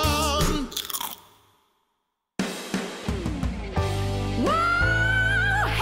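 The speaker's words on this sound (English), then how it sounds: "Lightly toasted until golden brown and glazed in honey for that extra crunch." Honey-glazed, lightly toasted breakfast cereal crunches loudly and close in repeated bites, with a short silent gap, then more crunching mixed with bright musical jingle tones.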